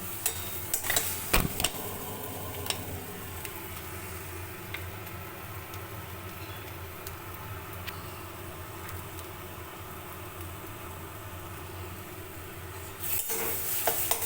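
Sim bata, a thick bean paste, stirred in a kadai, with steady scraping of the spoon against the pan and soft sizzling throughout, a few louder clatters near the start and end, no talking.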